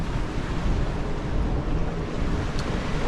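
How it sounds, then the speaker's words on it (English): A stiff southwesterly wind blows by a sea wall, buffeting the microphone in a constant broad roar mixed with surf, steady and loud throughout with no voices. "We've got quite a stiff southwesterly wind."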